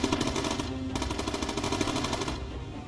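Front gun of a bomber in the video game Bomber Crew fires in rapid, continuous bursts of rattling machine-gun shots, loud and close, with no talking.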